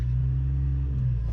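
A car with a lit check engine light, needing suspension work and an O2 sensor, runs steadily with a low, constant engine rumble and hum throughout, close and fairly loud, with no talking.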